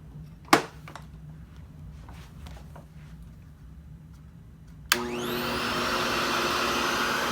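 A Hoover Hushtone 15 vacuum cleaner with a rubberized power nozzle switches on after a sharp click and runs steadily on its first speed, a smooth, fairly quiet motor whine that spins up and holds.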